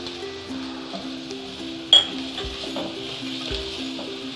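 Carrots and capsicum stir-fried in a pan over a full, high flame, with a steady low sizzle, scattered metal clinks of stirring and one sharp clatter partway through.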